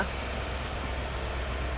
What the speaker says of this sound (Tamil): இப்போ தான் அந்த ட்ரெயின் போனதுக்கப்புறம் நம்ம ட்ரெயின் டிபார்ட் பண்ணுறாங்க